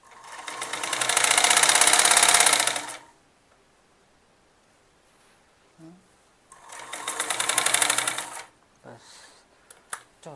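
A sewing machine runs in two loud, steady bursts of rapid stitching on a kurti, separated by a quiet pause with light handling clicks and a brief spoken word.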